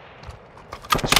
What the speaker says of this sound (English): Swapping mags!